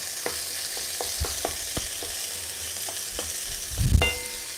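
Octopus and potatoes fry together in one pan, a quiet steady sizzle broken by a series of utensil clicks and taps against the pan and a louder thump near the end, no voices.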